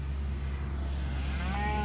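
Cattle lowing during a cow check on a farm, a drawn-out harmonic moo rising near the end over a steady low engine-like rumble, no talking.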